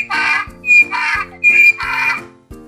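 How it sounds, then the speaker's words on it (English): A baby donkey brays in a repeating pattern of loud, squealing, harmonic calls alternating with lower grunting intakes, close and alone. "Then we have a baby donkey."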